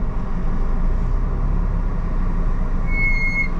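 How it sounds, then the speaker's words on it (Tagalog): Mitsubishi Mirage brakes give a short, high-pitched squeal near the end as they are pressed, sitting over a steady, loud rumble of road and engine noise heard from inside the moving car. "Narinig nyo, pag umapak ako ng preno, sobrang ingay."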